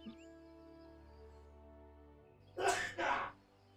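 A single loud sneeze in two quick bursts after a quiet stretch with a faint low hum in the background.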